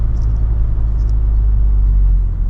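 A Volkswagen Jetta GLI MK7.5 drives along with a low, steady rumble of engine and road noise heard from inside the cabin, continuous and fairly loud, with no talking.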